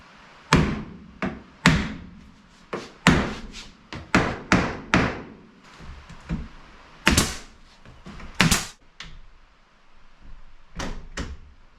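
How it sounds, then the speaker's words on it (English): Sharp hammer blows strike a screw into wood framing in uneven bursts, some quick doubles and some spaced out, loud and close with ringing decay, no speech. "So I'm gonna grab a hammer, see if I can tighten that up"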